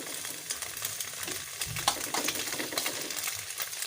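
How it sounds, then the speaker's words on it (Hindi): A plain egg seasoned with a little salt frying in a pan, steady close sizzle and crackle with scattered spatters and light scraping taps, no voices. "ये हमने अंडा अब फ्राई करना है।"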